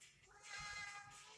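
A pet cat meows once at home, a single drawn-out cry of moderate loudness, close by and with no other voices.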